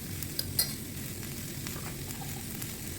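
Asparagus and black fungus fry gently in a pan under a steady low sizzle, with a couple of light utensil taps early on and no voices.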